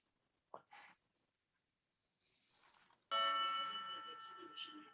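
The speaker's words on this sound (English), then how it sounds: "I hear chimes. That's my clock." A home clock chimes in a run of bright, sustained bell tones that ring out and slowly fade, with brief soft voices and small noises just before.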